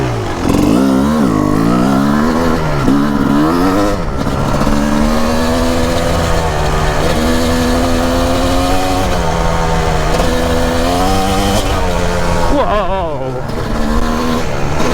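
A 2004 Kawasaki KX 250 two-stroke dirt bike engine riding fast, loud and close, revving and shifting through rising and falling pitch sweeps continuously, with a voice speaking over the engine.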